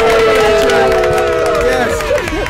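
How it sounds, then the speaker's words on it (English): A breakfast-show studio audience cheers and whoops loudly in a short burst of crowd noise. "I want to give a round of applause for my niece,"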